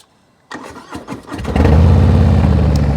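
A 2023 Harley-Davidson Breakout with slip-on exhausts fires up after a brief silence, its engine sputtering and then settling into a loud, deep, rumbling idle right next to the microphone.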